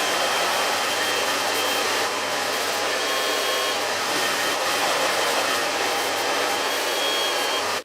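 A hair dryer blows steadily and loudly while hair is blow-dried after a U-shaped haircut, a continuous airy whoosh with no talk.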